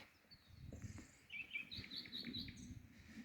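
Faint, high bird chirps repeat in a quick series over quiet outdoor ambience, a few short tweets close together.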